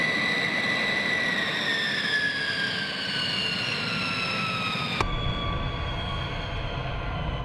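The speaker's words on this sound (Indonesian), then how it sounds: "pilot akan mulai mengemudikan pesawat ke landasan pacu untuk lepas landas" A U-2 spy plane taxis toward the runway with a loud, steady jet engine whine whose pitch slides slowly downward, holding at close range throughout, with a sudden shift in tone near the end and no talking.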